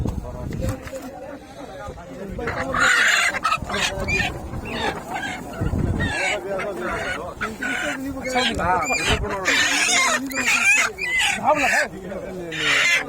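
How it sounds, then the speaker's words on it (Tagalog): Fairly large live chickens clucking and squawking close by, busy and irregular, mixed with people talking over them and other barnyard fowl calls. "Medyo malalaki naman yung manok."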